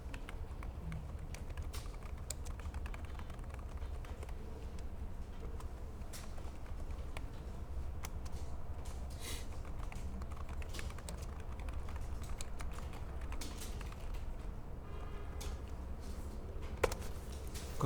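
Quiet typing on a computer keyboard while working in a CAD drawing program: light, scattered key clicks and taps at a low, steady level against a faint background hum.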